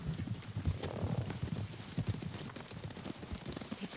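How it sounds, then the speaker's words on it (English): Horse hooves clatter in a fast, busy rhythm through a Ghost of Tsushima game scene, with rapid low thuds repeating steadily across the whole stretch at moderate loudness and no talk over them. "Horses, they're coming for us."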